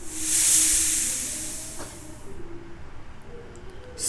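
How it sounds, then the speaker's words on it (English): A snake gives a loud, breathy hiss that swells and then fades away over about two seconds, followed by quiet background. "Snake."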